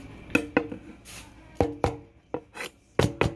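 A knife chopping octopus on a cutting board, a quick run of sharp, close knocks in small irregular clusters with short pauses between them.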